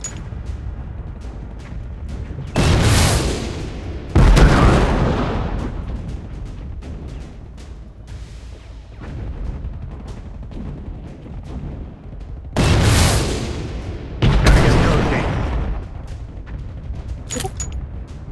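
Heavy booming blasts from a drone strike in a drone-warfare game come in two pairs of loud explosions, with a low rumbling decay and quieter background noise between them.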